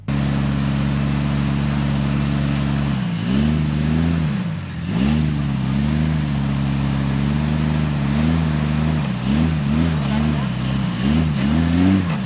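Open-differential Jeeps grind up a rock crawling obstacle off-road, engines droning loud and steady with repeated revving surges and dips throughout.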